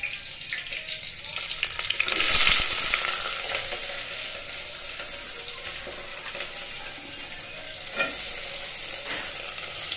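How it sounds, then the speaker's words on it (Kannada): Onions fry with green chillies in a pan for a village-style greens saaru, giving a constant hiss with louder stirring swishes in bursts, strongest early on and again near the end. "ಈರುಳ್ಳಿ ಇದೆಲ್ಲ ಫ್ರೈ ಆಗಬೇಕು ಚೆನ್ನಾಗಿ"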